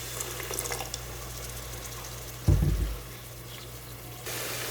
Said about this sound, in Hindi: थोड़ी देर पकाने के बाद मसालों को अब थोड़ा सा पानी ऐड करेंगे